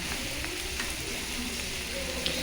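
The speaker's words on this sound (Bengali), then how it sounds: "তো করলা ভাজিটা আমি বারবারে বারে নেড়ে চেড়ে নিচ্ছি যাতে করে না পড়ে" Bitter gourd fry with prawns sizzling steadily in a pan, with a few soft stirring scrapes over a quiet, even frying hiss.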